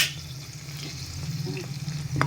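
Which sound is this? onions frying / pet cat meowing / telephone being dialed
onions frying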